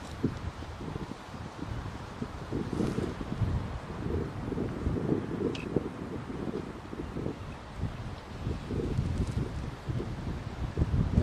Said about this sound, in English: let's wait for this gust to go